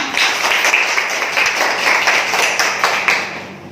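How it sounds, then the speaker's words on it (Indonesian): A primary school class claps hands together, a dense burst of steady applause lasting a few seconds before tapering off slightly at the end. "Beri tepuk tangan untuk kita semua"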